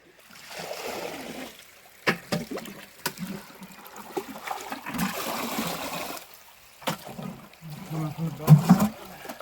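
Spring water trickles and splashes unevenly through a crack on mountain land close by, with a few sharper knocks and bursts; faint voices come and go beneath it.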